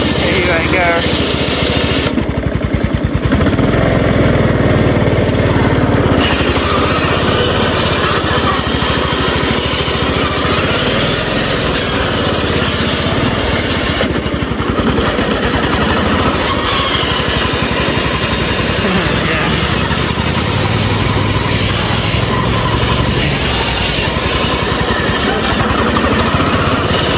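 Homemade racing lawn mower engine running loud and close, a steady raspy buzzing drone that holds for the whole stretch with brief dips, with speech likely mixed in.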